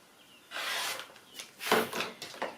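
Rotary cutter or shears slicing through stitched five-inch quilt squares of fabric, several close, quiet scraping cuts with short pauses between them.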